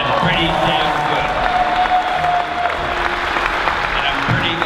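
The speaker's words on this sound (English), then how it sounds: "You guys, please, one more time, huge round of applause." Audience applause at a C2E2 comics convention panel in Chicago, a steady wash of clapping from a crowd held at an even level throughout, with a few voices mixed into the noise.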